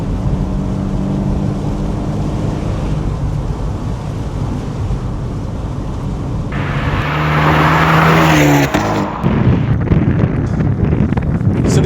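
Abarth 124 Spider sports car driven along the road: a steady engine drone mixed with strong wind rush, which grows louder and rises in pitch toward the end as the car accelerates, with a brief change near the gear shift.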